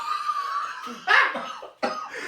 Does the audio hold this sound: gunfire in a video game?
no